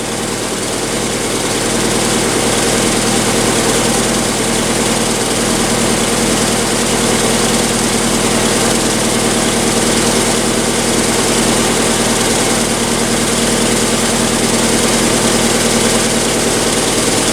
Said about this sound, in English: Then you heard me cranking it and it fired right up.